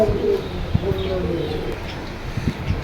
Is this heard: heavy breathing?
no